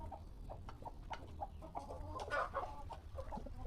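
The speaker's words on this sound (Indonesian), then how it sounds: "Nah, ini ayam yang mau mengeram" Free-range village hen gone broody, clucking in short irregular bursts at close range with a busier cluster of calls midway, over a low steady background hum; no one speaks.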